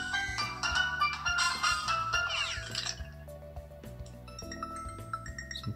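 Notification chimes preview one after another on an HTC Dream T-Mobile G1 phone, bright tinkling melodic tones over a low repeating tune, fairly quiet with no talking.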